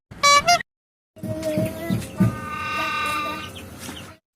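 Chickens cluck and squawk nearby in short bursts, after a brief loud call and a pause, with a busy farmyard background.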